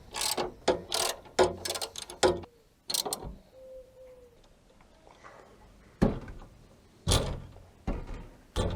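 A hand ratchet clicks in quick bursts while tightening bolts on a jerry can mount fitted to an FJ Cruiser, with several close rapid rattling runs separated by pauses and brief faint squeaks.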